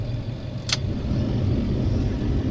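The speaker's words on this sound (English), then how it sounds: "Getting the truck warmed up" An ambulance truck engine idles as it warms up, a steady low rumble close by and continuous, with a brief high hiss or click partway through.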